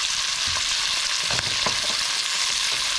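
Carrots and onions stirred in a pot, a constant close sizzle with a few distinct scraping stirs of the spoon against the pot, no voices.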